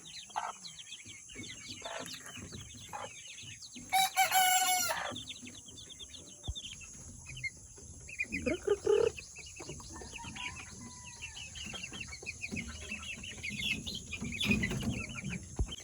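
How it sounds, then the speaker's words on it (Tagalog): Three-month-old chickens on a backyard farm cluck and chirp softly through a faint steady hum, with a brief louder squawk burst partway and scattered bird calls throughout, no talking. "Ito yung mga 3 months old namin na mga manok."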